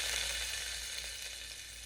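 Chopped garlic sizzling with cumin in hot coconut oil, a brief, faint, steady hiss and crackle heard alone.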